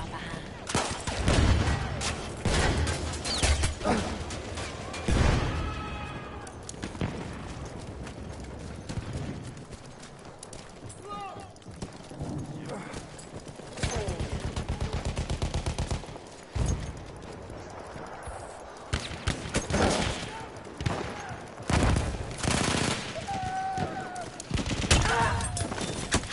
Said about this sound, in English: I'm just shooting everybody